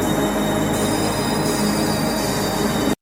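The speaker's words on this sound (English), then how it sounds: "the train seems to be going real fast still" A fast-running train gives a loud, steady rumble and rattle of wheels on rails, close and continuous, with no voices, until it cuts off abruptly at the end.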